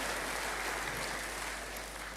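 A church congregation applauds in praise during a sermon, a soft, even wash of clapping from a distant crowd that continues steadily and fades slightly toward the end.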